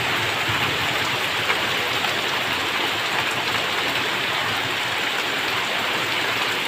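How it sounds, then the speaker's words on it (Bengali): Steady rain pours down on a rooftop in hot summer weather, a dense, even hiss that stays constant and fairly loud throughout with no voices. "কার কার এরকম বৃষ্টির ওয়েদার ভালো লাগে বলো কমেন্ট করে"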